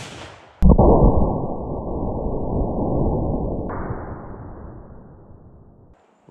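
A Colt black powder revolver, an 1847 Walker or 1860 model, fires a 40 grain load in one loud, close blast with a sharp onset and a long, boomy decay that fades out over several seconds.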